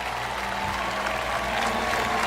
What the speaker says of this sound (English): the crowd are on their feet to give an ovation to these team medalists in the eventing